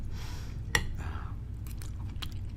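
A single sharp, loud crunch of a bite into a crisp water chestnut, followed by softer chewing and faint crackles, heard up close.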